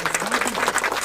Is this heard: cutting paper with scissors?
no